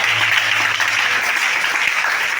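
Church congregation applauding during a Sunday worship service in Libreville, Gabon, with steady, dense clapping filling the space throughout, a low hum beneath.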